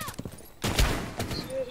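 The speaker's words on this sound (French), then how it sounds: "Je vais essayer de mettre une balle avec mon pistolet." A pistol shot fired in the tactical shooter Rainbow Six Siege rings out sharply once, loud and close, followed by lingering game noise and some background talk.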